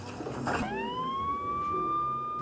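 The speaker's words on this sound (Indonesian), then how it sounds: "Lalu dengan ambulan, Kim Jung-san berhasil dibawa keluar" An ambulance siren rises into a steady, piercing wail that holds at a fairly loud level over a dense rumble of background noise, without speech.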